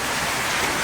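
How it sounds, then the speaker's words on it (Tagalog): Heavy rain pours outside at night in a dense, constant hiss of drops on surfaces, loud and unbroken with no voices. "malakas na yung ulan sa labas"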